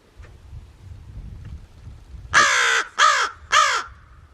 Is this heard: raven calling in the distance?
yes